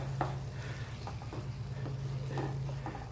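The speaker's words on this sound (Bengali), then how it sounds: "আর একবার নেড়ে চেড়ে নেব।" Carrot halwa, its milk almost dried off, is stirred in a pan: quiet, scattered scraping strokes and a soft sizzle over a low steady hum, with no talking.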